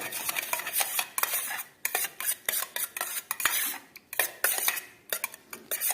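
Sautéed garlic for garlic soup is stirred in a pan, with a rapid series of sharp metallic scrapes and clinks of a spoon against the pan over a faint sizzle, close and irregular.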